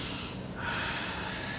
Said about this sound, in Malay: Tarik nafas tadi.